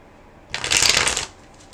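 A deck of tarot cards is shuffled once, a quick riffling flutter lasting under a second, close and clear against a quiet background.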